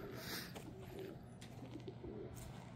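Soft pigeon- or dove-like cooing from birds kept on a small farm alongside chickens and turkeys in cold, rainy weather, faint and distant over a steady low background hum, with no talking.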